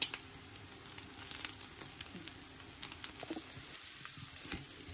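Eggs frying in a pan with chopped wild chives (dallae) being added, a soft close sizzle with light stirring taps and scrapes, fairly quiet, no talking.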